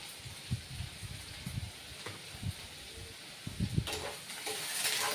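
Chopped tomatoes drop into a hot pan of oil and sizzle steadily, with soft bursts of crackle and a few stirring scrapes close by, no talking.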